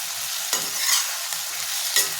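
Ginger garlic paste with salt fish fries in a pan for a drumstick salt fish curry, a steady close sizzle with a few stirring scrapes, alone with no voices.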